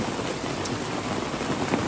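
Rain falling in Parc régional de la Rivière Gentilly, a dense, even patter and hiss at moderate loudness, continuous with faint scattered drop ticks and no talking.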